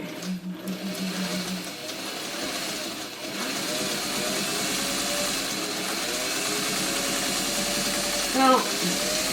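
A sewing machine quilts along the edge of masking tape with a continuous, even motor hum throughout. A person talks over the machine.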